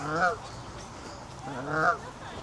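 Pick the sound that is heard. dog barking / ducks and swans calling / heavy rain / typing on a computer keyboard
ducks and swans calling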